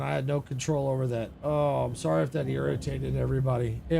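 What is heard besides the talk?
No distinct noise like a dog, phone or traffic.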